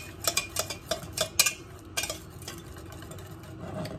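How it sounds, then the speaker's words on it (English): Flour being stirred into melted butter in a pan to make a roux for mac and cheese, giving a series of close scraping and clinking utensil strokes, irregular and fairly loud at first, then settling into a softer steady scrape. "And then I just kind of mix it into the butter till it kind of makes like a paste"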